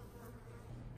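Returning honey bee swarm bivouacking outdoors, giving a dense, steady buzzing hum of many bees at close range with no pauses.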